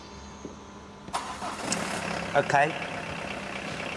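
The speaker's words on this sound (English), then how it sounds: "out of gear and start your engine, please." A car engine cranks and fires up during an MOT test with the park brake on and the gearbox in neutral, then settles into a steady idle. A short spoken word comes just before the start.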